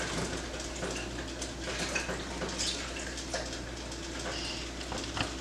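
Running tap water pouring steadily over a green pepper being washed in a kitchen while making Haitian pumpkin soup, a soft continuous hiss and splash at moderate distance, without talk.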